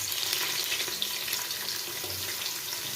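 Onion and green chillies fry in hot oil and ghee for chicken dum biryani, a dense, steady, close sizzle that holds throughout with no talking.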